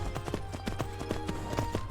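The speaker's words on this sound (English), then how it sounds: "Alright, so there's just another random horse up here." Horse hooves clip-clopping in the Skyrim video game, a steady rhythmic series of about a dozen quiet hoofbeats at walking pace, moderately close, with no voices.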